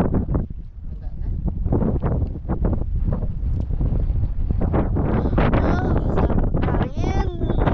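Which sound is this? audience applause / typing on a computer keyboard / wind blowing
wind blowing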